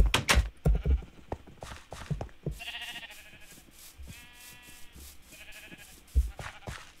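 Bred sheep in Minecraft bleat in short, distinct game-sound calls, several in a row after a few sharp clicks, clear and close with no voices over them.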